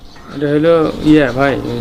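Fancy pigeons, including a mini king breed, cooing at a pigeon farm, two rolling, throaty coo phrases that are close and clear, with no talking.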